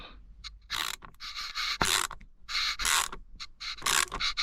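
Torx screws being worked loose during a car repair, with bursts of scraping, creaking driver-on-metal noise and short ratchety clicks, close and fairly loud, repeating in uneven spurts with brief pauses between turns.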